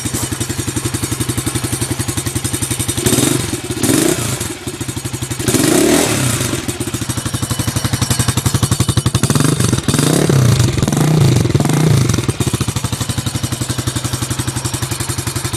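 Baja Dirt Runner 125 dirt bike with a restored exhaust pipe idling nearby, a loud, steady single-cylinder putter with a few blips of throttle, no talking.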